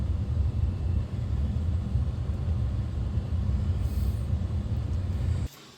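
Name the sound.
Chevy Silverado heater blower fan running at speed 5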